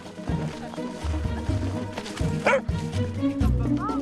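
Several dogs bark and yip in a row on a morning walk in the Bois de Vincennes, Paris, with a whimper and the voices of walkers in the background.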